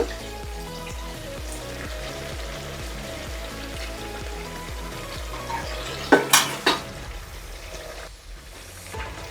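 Curd being stirred into chicken pulao in a pot, steady rhythmic scraping strokes close by with a low repeating thud, then a few louder clanks of the utensil near the end.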